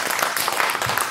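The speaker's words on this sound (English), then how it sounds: "give her a round of applause." A short burst of audience applause at a psychic stage show, dense and steady clapping from many hands throughout.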